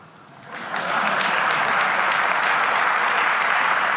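A TED talk audience breaks into applause, the clapping swelling quickly from a quiet start into a dense, loud, sustained ovation that fills the hall.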